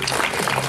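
An audience applauds a pan flute performer, a brief burst of steady, dense clapping heard at moderate loudness.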